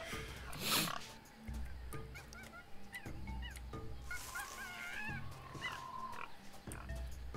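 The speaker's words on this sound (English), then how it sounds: "Yeah, that sounds like pigs." Pigs oink and squeal as a sound clue in the video game Tales of Monkey Island, with a loud burst early on and scattered grunts and snorts continuing at moderate level against a busy background.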